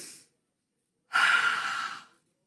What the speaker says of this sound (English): Let's just test our breathing apparatus. Inhale up. Exhale down.